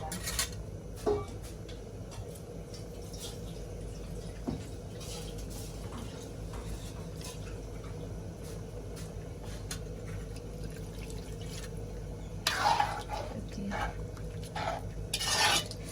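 A pot of meat curry simmers with a soft, continuous bubbling hiss, broken by occasional clinks and stirring scrapes of a utensil against the pot.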